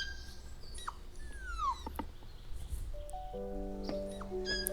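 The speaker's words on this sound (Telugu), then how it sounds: "రోడ్డు పక్కన కాలువలో ఒక కుక్క పిల్ల పడి ఉంది." A small puppy whimpering after falling into a roadside canal, thin high whines and yelps over a low rumbling background, with sustained tonal notes that sound like music toward the end, faint and close.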